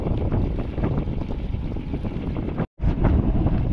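Strong wind roars steadily and buffets the microphone with a dense rumble that briefly cuts out, then resumes.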